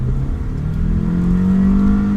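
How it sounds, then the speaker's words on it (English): A car pulls away from a standstill at full throttle, its engine revving loudly and climbing steadily in pitch as it accelerates, close and continuous, with no talk over it. "we're going to go from 0 to full throttle"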